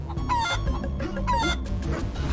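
A chicken in the video game Guacamelee! 2 clucks in a few quick bursts, loud and close, over a steady game soundscape.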